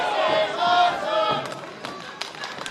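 A wrestling crowd at a steel cage match roars and cheers, loud at first and then easing, with thuds and a few sharp shouts rising from the arena noise.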